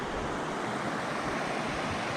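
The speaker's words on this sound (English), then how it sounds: "just listening to the water" Waves and flowing water along a Kauai shoreline on a camping trip, a steady broadband wash of surf with some wind rumble, continuous and fairly close, with no voices.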